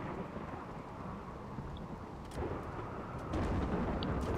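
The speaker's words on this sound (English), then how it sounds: "Oh, thunderstorm has begun." Thunderstorm in RimWorld: a continuous low rumble of rain and thunder that swells louder twice, with faint higher crackles.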